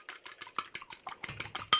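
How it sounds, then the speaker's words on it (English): Egg beaten in a bowl with a fork or whisk: quick, evenly spaced clinking taps, around ten strokes, close and fairly quiet. "I'm just going to beat up the egg"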